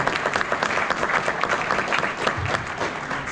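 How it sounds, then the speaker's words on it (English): Audience applause at a talk, honoring a newly appointed Illinois commissioner, steady, close and moderately loud, a continuous wash of many hands clapping. "And let's give a round of applause for him"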